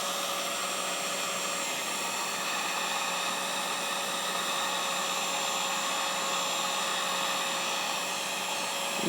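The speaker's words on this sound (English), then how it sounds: "And get the heat gun on. And low heat, I think, will be sufficient for this." A heat gun on low heat warms a clock gear and shaft mounted in a lathe, giving a constant, even blowing hiss with a faint steady hum that runs unchanged throughout.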